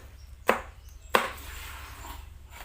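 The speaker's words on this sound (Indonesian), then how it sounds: "1 biji cabai merah besar diiris serong." Two sharp knife chops land on a cutting board about half a second apart as a large red chili pepper is sliced diagonally, close and fairly quiet, with no talking.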